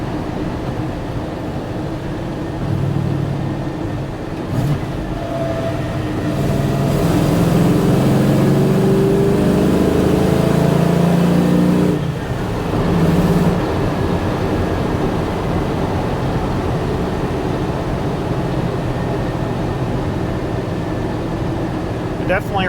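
Holley-carbureted Magnum 5.9L V8 running, swelling into a heavy revving roar mid-clip before settling back to a rumbling idle, with people talking over it.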